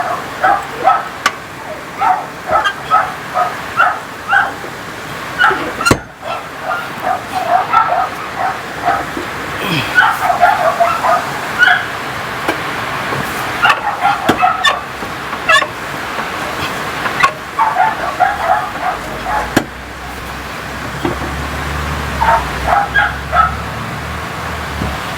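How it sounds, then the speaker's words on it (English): Several dogs bark and yip excitedly at mid distance in repeated irregular bursts, with occasional whimpers, over a steady low background rumble. "my dogs are going off."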